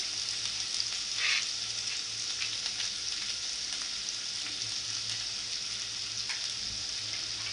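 Ginger-garlic paste sizzles and fries in hot oil with curry leaves in a pan, a steady close hiss with a brief louder burst near the start and faint stirring clicks.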